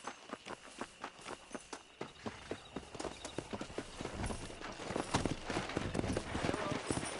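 Horse hooves in the Red Dead Redemption remaster video game: a steady, fairly quiet clip-clop of hoofbeats that quickens and thickens into a denser gallop as the clip goes on.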